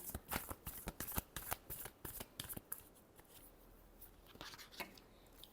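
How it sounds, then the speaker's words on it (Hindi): Tarot cards being shuffled by hand during a love reading, a quick run of crisp riffling snaps and flutters, close and clear, easing into softer sliding card sounds with no talk. "चलिए लास्ट शफल।"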